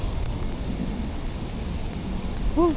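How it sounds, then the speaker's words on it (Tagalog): Strong, cold wind roars and buffets the microphone continuously while riding a Honda Giorno 125 scooter, a dense low rush with no pauses. "ang lakas ng hangin, ang lamig"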